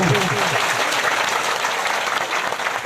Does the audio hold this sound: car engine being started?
no